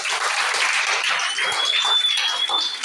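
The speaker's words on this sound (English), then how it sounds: "I think you need to clap for her once again" Clapping from a school audience after a guest speaker's talk on careers and life, a continuous even patter of many hands that sounds somewhat distant and lasts under three seconds.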